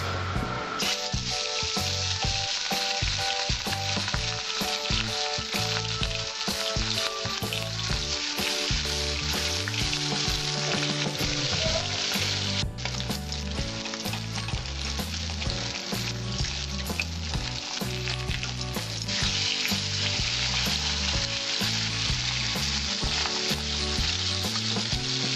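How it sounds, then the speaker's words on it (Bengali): A piece of katla fish sizzles steadily in hot oil in a heated wok, with a dense, continuous crackle and occasional louder spits and stirring scrapes throughout. "মাছটা আমি এবার ছাড়বো।"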